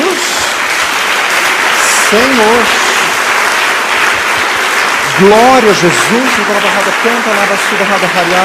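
Applause from a church congregation during a sermon, a steady layer of clapping running throughout while voices call out over it.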